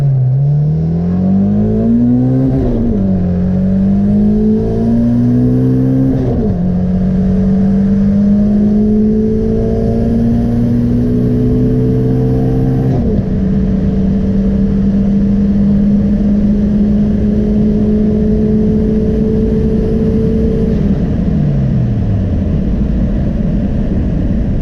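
Turbocharged car engine revving hard at around 26 psi boost, a loud continuous whine of climbing engine harmonics that rise, drop at each shift and rise again over roughly twenty seconds before winding down.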